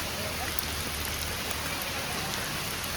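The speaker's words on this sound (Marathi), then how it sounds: "आता पाऊस मस्त आलेला आहे" Heavy monsoon rain at the Amboli waterfall pours down in a steady, dense hiss that stays loud and even from start to finish, with no voices.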